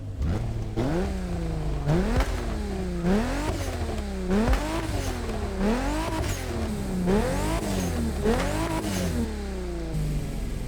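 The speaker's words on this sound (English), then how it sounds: "let's just listen to it because it sounds so good in this game" A stock Toyota Supra engine in the racing video game The Crew Motorfest, revved repeatedly in rhythmic rising bursts that climb and drop back, loud and close with no talk.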